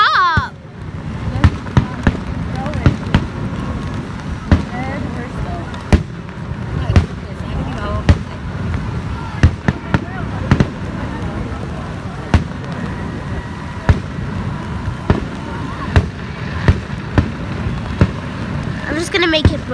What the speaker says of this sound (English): We can see the fireworks.